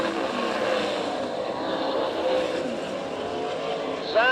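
Race cars roar around a dirt oval track in Tulsa, Oklahoma, their engines forming a loud, steady drone with a commentator's voice running over it.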